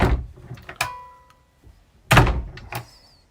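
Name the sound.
boat cabin door closing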